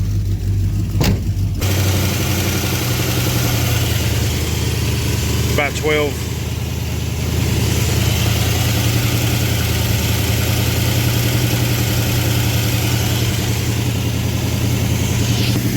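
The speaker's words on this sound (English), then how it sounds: "It's idling really low." A car engine with a Thermoquad carburetor idling low with a steady, deep rumble, loud and close, while a person says a few words briefly over it.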